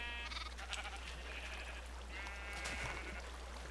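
Sheep bleat in the Minecraft video game, a few wavering calls close by over a low steady background hum, with no talk.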